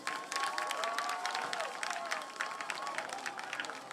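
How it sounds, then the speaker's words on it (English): A football crowd at a Chelsea versus Somerville high school game applauds the Somerville seniors, a busy spread of clapping and cheering with voices mixed in, steady over several seconds. "one more big round of applause for our Somerville High School seniors"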